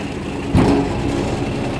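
A Kubota RTV900 utility vehicle engine idles after a head gasket repair. It gives a steady, loud, close mid-pitched running sound with a brief swell near the middle and no voices.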